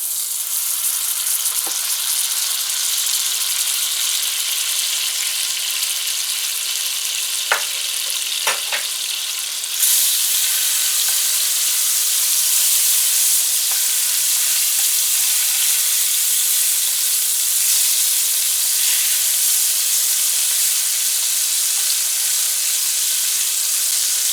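Butter melting in a hot pan for yellow turmeric rice gives a loud, steady sizzling hiss that carries throughout, with a few faint clicks and a small rise in intensity partway through.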